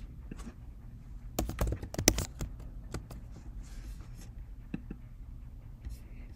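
Keys typed on a computer keyboard while filling in an online checkout form, with a quick burst of clicks and scattered single taps at close range, quiet and with no speech.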